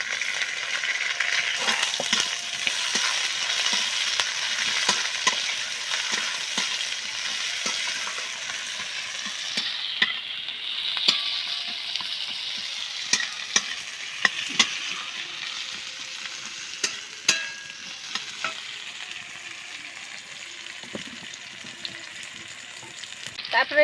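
Chopped onions sizzle steadily in a pan, with a constant bubbling hiss. A utensil stirs them and clinks against the pan at irregular moments, and no one talks.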